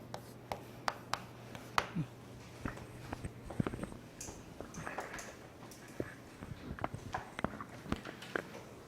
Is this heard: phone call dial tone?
no